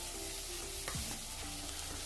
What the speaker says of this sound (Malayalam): ഈ പൊടികളെല്ലാം ചേർത്തിട്ട് ഇതിൻ്റെ പച്ചമണം മാറുന്ന വരെ ഒന്ന് വഴറ്റിയെടുക്കണം.